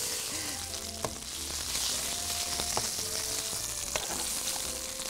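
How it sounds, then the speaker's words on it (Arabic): Chicken pieces frying in a hot pan give a steady, close sizzle with scattered pops and crackles throughout, heard alone without talk. "رح ننزل أول قطعة من الدجاج. أوكي. شايفين هذا الصوت؟ هذا أهم صوت"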